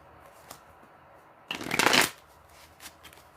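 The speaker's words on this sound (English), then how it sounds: "Let me get one more shuffle, and we'll split the cards" A deck of playing cards is shuffled in one quick riffle, a short crisp burst of flicking card edges between quiet pauses.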